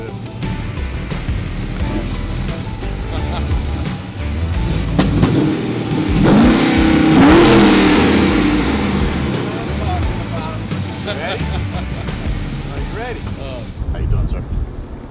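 A 1966 Pontiac GTO arrives with a loud, rising engine roar that swells and peaks midway, then fades. Voices talk over it throughout.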